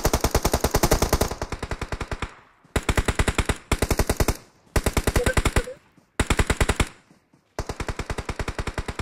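Automatic gunfire in the PUBG Mobile game on the Sanhok map, loud rapid bursts of evenly spaced shots broken by short pauses, close and dominant, with no voices over it.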